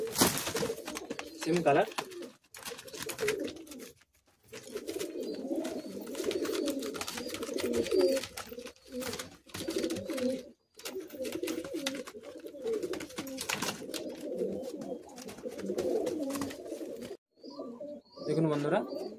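Madrasi high flying pigeons coo steadily in a Kolkata loft, soft throaty calls repeating close by with brief gaps, while someone talks intermittently over them.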